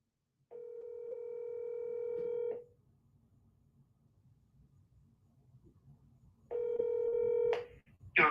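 Telephone tones sound on an outgoing call: a steady multi-harmonic tone runs about two seconds, quiet hiss follows, then the tone returns and ends in short bright bursts. No one talks.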